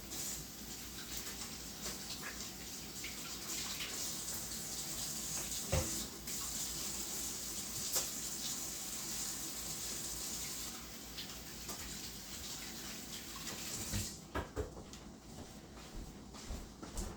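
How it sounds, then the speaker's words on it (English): Tap water runs steadily into a kitchen sink while hands are washed, a continuous soft splashing rush with a few faint knocks, low and even throughout. "Let me just wash my hands."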